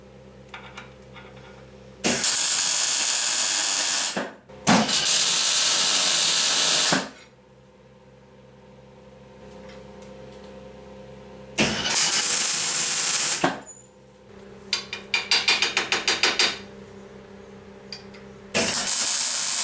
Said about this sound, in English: time to tack weld a few things together